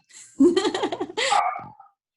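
A dog at home during an online yoga class gives two drawn-out, yelping barks in quick succession, close and fairly loud, with no talk over them.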